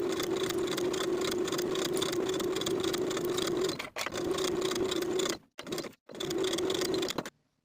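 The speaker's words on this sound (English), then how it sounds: "I'm going to sew that binding in place from one side to the other with a 3/8 inch seam allowance" Sewing machine stitching a neckline binding on a sleeveless top with a 3/8 inch seam, a steady close whirring hum running in bursts that stop briefly and restart near the end, no talking.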